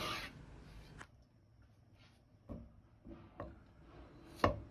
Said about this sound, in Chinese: 然后再切成细丝。